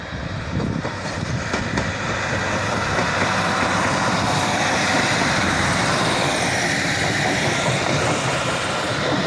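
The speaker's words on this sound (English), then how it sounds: "155 diesel Sprinter for Briglington." Northern class 155 diesel Sprinter unit 155341 pulls away at York station on the 11:47 service, a steady, loud, broad rumble of engine and wheels that fills the whole stretch with no voices.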